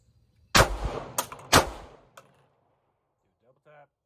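Two sharp, loud gunshots crack in quick double-tap succession, then a third fainter shot follows a moment later, with a brief metallic handling sound near the end.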